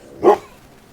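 A dog gives a single short, sharp bark, close and fairly loud, followed by quiet room noise.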